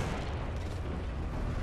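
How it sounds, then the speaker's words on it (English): Apex Legends knuckle cluster launch explosions form a short, dense, rumbling burst of blasts, loud and sustained with no gaps. "Launching me knuckle cluster."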